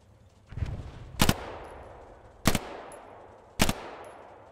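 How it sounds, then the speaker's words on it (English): Sharp gunfire and heavy impact thuds in the World War II shooter Hell Let Loose, three loud cracks spaced about a second apart after a low muffled thump, each trailing off into a fading echo. "I love the sound of the hit markers."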